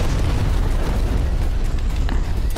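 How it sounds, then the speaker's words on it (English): A dense, continuous low boom and rumble of an explosion, like a rocket launcher blast in a Call of Duty match on the Nuketown map, stays loud throughout with no voices. "Why do you have a rocket launcher on Nuketown?"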